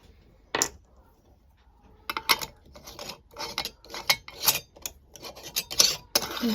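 A metal lid is screwed onto a glass canning jar of home-canned fruit cocktail, making a string of short scraping, rasping twists and clicks, close and fairly quiet, with no talking.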